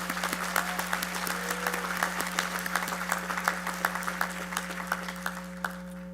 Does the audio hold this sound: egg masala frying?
no